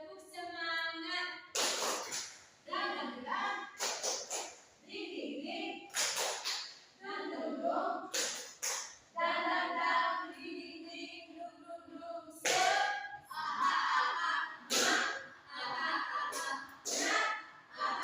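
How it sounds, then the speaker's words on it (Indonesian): An Indonesian school class performs the rhythmic tepuk semangat spirit clap, with bursts of patterned group clapping alternating with chanted voices. "Tepuk semangat."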